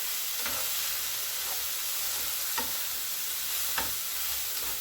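Ingredients with parsley and browning meat are stirred in a hot pan, a steady sizzle with periodic soft scraping strokes of the spoon every second or so.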